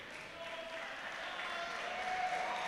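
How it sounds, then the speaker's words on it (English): A crowd at an Asian classic powerlifting championship gives a sustained round of applause for an 82-year-old lifter, steady dense clapping that swells slightly toward the end. "he gets a massive round of applause from the crowd"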